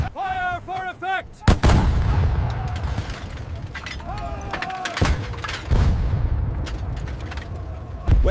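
World War II artillery guns firing in a battlefield scene, with several heavy booms spread over the clip among crackling gunfire and rumbling noise, along with shouted voices and a few whistling tones early on.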